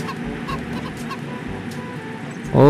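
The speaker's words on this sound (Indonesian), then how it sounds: "Sudah dengar suara ayam" Chicken clucking in the survival video game Mist Survival, a short burst of honking fowl calls rising at the very end over a steady background hum.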